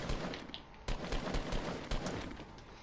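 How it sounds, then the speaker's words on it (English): Rapid gunfire fills a Fortnite match with dense bursts of automatic shots, loud and continuous over the full stretch with a few heavier impacts. "But they were shooting at someone, so that means there's people."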